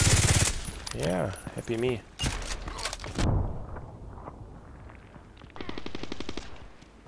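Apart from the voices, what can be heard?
Glock 18 gunfire in video game Contract Wars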